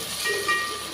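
Chopped tomatoes hitting hot oil in a frying pan with onions for a fish curry, a loud, close sizzling hiss throughout the short moment.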